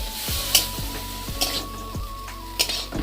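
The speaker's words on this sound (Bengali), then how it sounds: "এই যে টমেটো চাটনি রান্না করছি" Tomato chutney cooking in a pan, with a steady sizzle and a few sharp scrapes of a spoon or spatula against the metal every second or so, close and moderately loud, with no talking.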